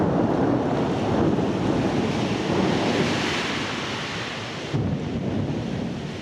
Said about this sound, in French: Ça commence comme un orage.